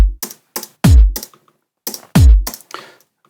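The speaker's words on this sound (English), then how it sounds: "And now we have pretty clean kick" Two punchy electronic kick drum hits with a deep, falling boom, mixed with short, clicky percussion taps in a loose beat.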